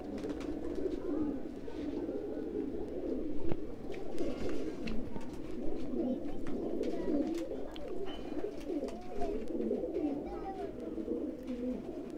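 Kasuri golden pigeons in a sale loft cooing continuously at close range, overlapping soft throaty calls under a steady background murmur.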